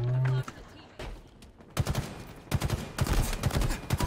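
Gunfire rattles through a Halo Infinite capture-the-flag match, with bursts of rapid automatic shots starting after a short tone and growing denser and louder toward the end.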